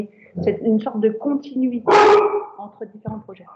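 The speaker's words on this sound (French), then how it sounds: "Excusez-moi pour le chien." A dog barks once, a loud sharp bark indoors in the middle of a person speaking French, with the voice continuing before and after.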